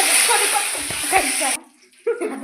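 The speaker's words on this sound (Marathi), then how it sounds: "इथं आपण तेल घेतले आणि ह्याच्यात जिरं मोहरी टाकायचं आहे बघा. आता हे जरा तडकून द्यायचं आहे 5 मिनिट." Cumin and mustard seeds spluttering in hot oil while cooking peanut amti, a steady loud sizzle with small pops that cuts off abruptly, followed by brief quieter clatter.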